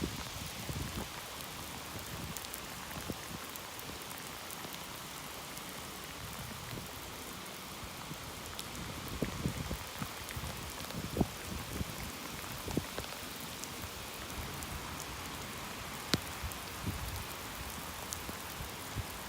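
Heavy rain pours steadily outdoors, a dense hissing wash with scattered louder drips and splashes throughout.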